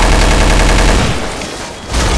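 Rapid, dense machine gun fire in Counter-Strike Online 2, loud continuous automatic bursts that break off briefly and then resume.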